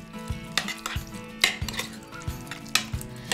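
A utensil stirs ricotta with salt and pepper in a bowl for angel hair pasta, knocking the sides in a rhythmic series of close clinks and scrapes, several strokes per second.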